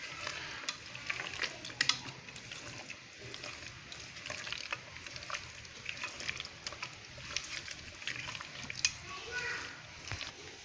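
Quail meat being mixed with masala by hand gives wet, squelchy, irregular kneading and slapping sounds, close and fairly soft, with a few sharper sticky clicks.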